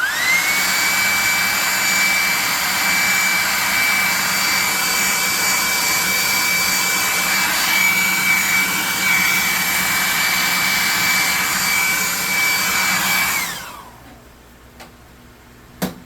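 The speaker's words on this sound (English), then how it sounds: "So this is a blow dryer, also known as the +2 hot air gun of burning." A hot air gun roars loudly and steadily with a high whine for several seconds, then winds down and stops, followed by faint clicks.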